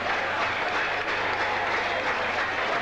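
Steady crowd applause at a 1982 Sri Lanka v England cricket Test match after three straight boundaries off Ian Botham, a dense, even wash of clapping from the stands that runs without a break.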